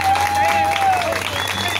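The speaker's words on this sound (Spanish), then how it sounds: "un aplauso para el mariachi, por favor" An audience at a mariachi performance claps in a dense, continuous round of applause, with someone talking over it.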